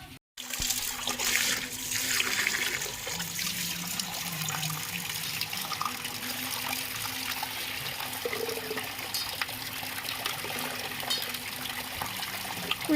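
Jujube fruits (kul) are washed under a running tap, with a continuous close rush of water that splashes and trickles steadily for the whole stretch and has no talk over it.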